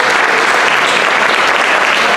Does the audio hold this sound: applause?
yes